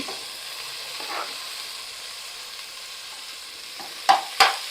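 Two large sliced tomatoes frying in a pan for mutton biryani give a steady, soft sizzle with a few brief utensil scrapes and stirring knocks near the end.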